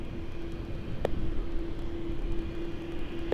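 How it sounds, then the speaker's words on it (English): An Emirates A380 airliner arriving on runway 34 left at Sydney Airport at night, a steady distant jet roar with a low sustained whine and no voices. "the EK A380 now arriving here on runway 34 left"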